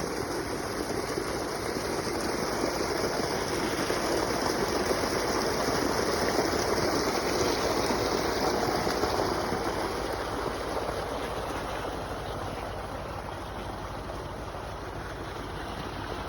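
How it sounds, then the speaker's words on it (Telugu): Irrigation water runs steadily through small earthen channels and furrows in a turmeric field, a constant close rushing flow with no voices. "ముందు ఈ చిన్న కాలువకి నీళ్లు నింపుకొని తర్వాత ఈ సాళ్ళని ఫిల్ చేస్తారు"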